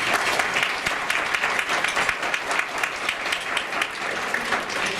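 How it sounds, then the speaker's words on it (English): Audience applause at a conference opening luncheon: steady, dense clapping from a room full of people, moderately loud and continuous throughout. "let's let the cameras record that we gave him well-deserved applause for everything he does."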